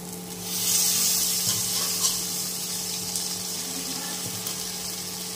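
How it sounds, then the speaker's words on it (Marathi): Hot water poured into a pan of chicken curry, a rushing splash that swells early and then settles into a steady watery hiss and bubbling, close and fairly loud. "त्यात टाकायचं गरम पाणी"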